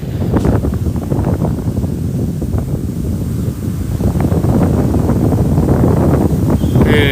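Steady wind rumbles against a phone microphone on Bang Saen beach, Chonburi, with a soft wash of surf beneath, continuous and fairly loud, no talking.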